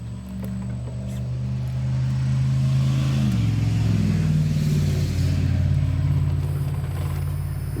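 Redcat Gen8 RC rock crawler truck driving with steady electric motor whine and gear drone that rises in pitch and strength midway as it pushes on, continuous and fairly close, no talk.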